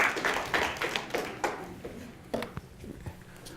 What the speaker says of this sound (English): You can give me a round of applause at this point.